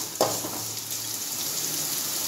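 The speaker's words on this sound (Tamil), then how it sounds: "பாருங்க ஆனியன் நல்லா ஃப்ரை ஆயிடுச்சு" Onions fry in a pan for a cauliflower and mushroom chops gravy, making a steady close hiss after a single soft clatter at the start.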